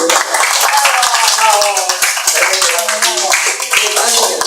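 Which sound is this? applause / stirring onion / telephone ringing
applause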